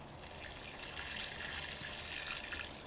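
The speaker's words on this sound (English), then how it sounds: "I'm going to fill up the hole with some water" Water is poured into a dry planting hole in a garden bed, a steady, faint, continuous rush of flowing liquid heard from a short distance with no talking.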